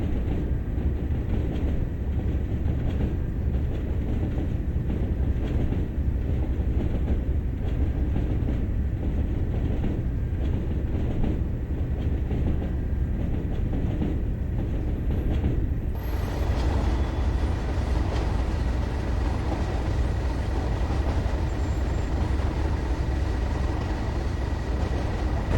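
A train on the Tees Valley Line in Train Sim World rumbles along steadily, a continuous low, heavy roar with faint rail clatter throughout and a slight change in tone partway through.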